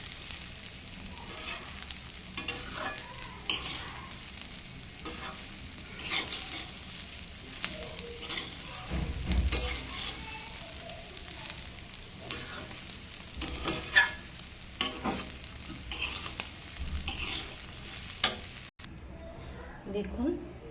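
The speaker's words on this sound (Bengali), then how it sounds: "চালটাকে বেশ ভালো করে ভেজে নিতে হবে" Rice for khichuri fries in a pan, a soft crackling sizzle with repeated scraping stirs and occasional knocks, heard up close at moderate volume while a voice speaks intermittently over it.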